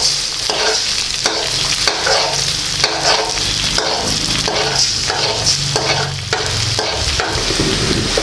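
Eggs stir-frying with preserved radish in a pan, a loud continuous sizzle with rhythmic spatula scrapes and stirring every second or so, close up with no talking.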